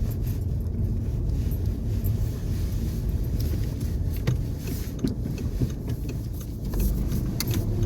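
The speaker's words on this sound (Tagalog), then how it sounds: "In a car, on my way to work" Steady low road rumble and engine hum from inside a car driving to work along a quiet road on a bank holiday morning, a continuous near drone with small ticks and bumps and no talk.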